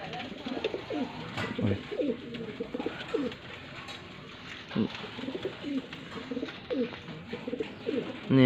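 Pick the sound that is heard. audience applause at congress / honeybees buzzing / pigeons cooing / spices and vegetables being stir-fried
pigeons cooing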